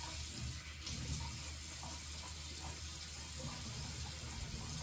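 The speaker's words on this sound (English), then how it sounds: "I put water all over my face as such" Water runs steadily from a bathroom sink tap and splashes as someone rinses their face, a continuous near wash of sound with no talk over it.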